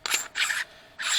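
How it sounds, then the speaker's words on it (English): Camera lens being handled, giving three short dry scraping, rasping bursts with brief pauses between, close and fairly quiet. "excuse the noise, that's a lens."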